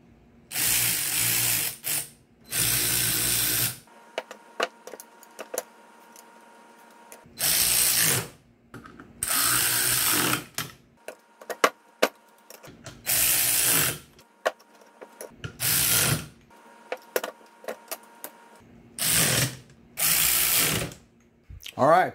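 A ratchet bolting down the seat rails of a Mercedes W126 300SD driver seat frame, with about eight close bursts of rapid clicking separated by quiet pauses and small metallic handling sounds.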